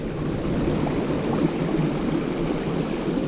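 Water rushes steadily over rocks in a stream along a rocky trail, a continuous close, full wash with no voices.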